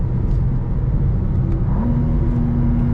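A 2024 BMW M2 CS engine drones loudly and steadily from inside the car, and its pitch steps as a paddle gear shift comes quickly partway through.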